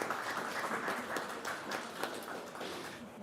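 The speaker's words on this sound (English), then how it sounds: "Can we have a round of applause for Dr. Villarreal and his team, please" A room at a board of education meeting fills with a crowd's steady, dense clapping, held at an even level throughout and heard from some distance.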